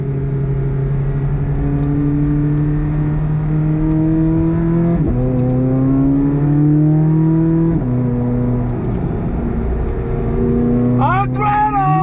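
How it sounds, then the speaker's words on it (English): A 2023 Chevrolet Corvette Z06 on a track in Pittsburgh gives a steady, loud engine drone whose pitch climbs and drops through gear changes, closing with a sharp rising rev. "Time to turn some laps on our own and get up to speed here in Pittsburgh in the Z06."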